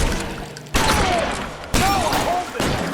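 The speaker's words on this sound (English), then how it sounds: "I'm shooting him, I can't." Gunshots in the detective game LA Noire, three sharp, loud reports spaced about a second apart, with ringing tones after them.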